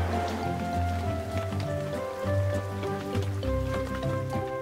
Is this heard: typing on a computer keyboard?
no